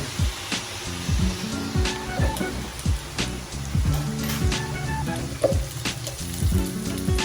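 Chili tossed into a pan of sautéing mung beans for ginisang munggo sizzles steadily, with rhythmic scraping strokes of a spatula against the pan, close and continuous.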